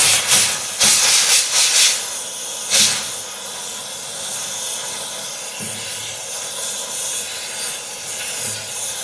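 A gas torch used to heat a rusty steering box on an ESARCO 8x8 gives a steady roaring hiss, with several louder bursts of rushing flame early on before it settles to a quieter continuous hiss, no voices heard.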